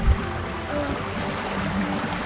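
Fast-flowing stream rushing below a waterfall in Tasmania, a steady broadband watery roar close by, with a brief thump at the start and no talking.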